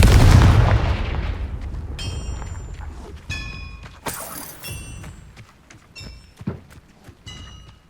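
Confringo and Expelliarmus spell blasts in Hogwarts Legacy, starting with a heavy booming impact that fades, then a series of sharp cracking bursts and bright ringing chimes spaced through the rest of the clip.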